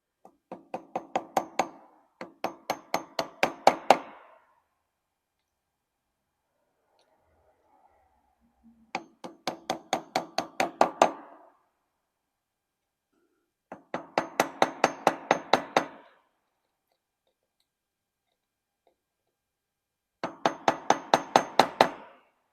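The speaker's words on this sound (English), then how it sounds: "we're going to bend these two ends flat with a screwdriver" A screwdriver is tapped against the lock washer ends on a Royal Enfield Bullet 500 to bend them flat. Sharp metallic taps come in five quick bursts of several strikes each, close and loud, with short silent gaps between bursts.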